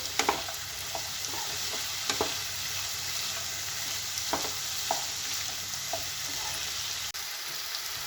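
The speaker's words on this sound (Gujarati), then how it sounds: "હવે એમાં આપણે કાજુના કટકા નાખીશું અને જોડે મગજતરીના બી નાખીશું અને એને થોડા સંતળાવા દઈશું" Cashew pieces and melon seeds sauté in a pan for a capsicum masala with a soft, steady sizzle. Occasional light spoon taps and stirring clicks punctuate it, with no voices.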